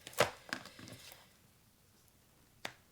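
Plastic-coated tarot cards being shuffled, a few quick slapping riffles early on and one more sharp snap near the end, close and fairly faint in a quiet room.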